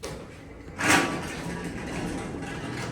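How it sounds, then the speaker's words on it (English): Doors of a vintage Otis traction elevator in Dallas sliding, a short loud whoosh and thud followed by a steady mechanical hum. "These doors are loud."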